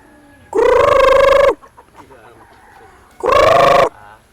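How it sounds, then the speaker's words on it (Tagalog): Two loud, drawn-out harmonic calls from a chicken, close by, separated by a quieter pause with faint background rustling. "Dami na ng manok ni Jojo dito, oh!"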